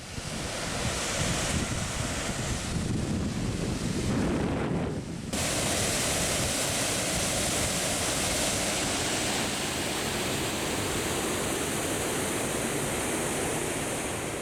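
Rushing water from the Saline River waterfall in Kansas, a steady, loud broadband roar with wind buffeting the microphone, dipping briefly before resuming unchanged.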